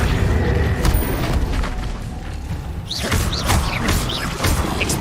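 Accio summoning spell effect from a Harry Potter wizardry video game: a rumbling magical boom, then a burst of whooshing, shimmering tones and thuds in quick succession, loud and close.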